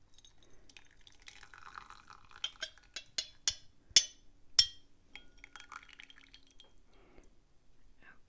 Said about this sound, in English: because it's so light, so we will just rinse it this way. Very lightly rinsing.